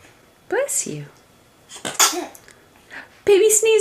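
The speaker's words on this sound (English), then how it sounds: "Baby sneeze fart." A baby gives a few sharp, close sneezes spaced apart, mixed with short breaths and small vocal sounds, with adult voices briefly around them.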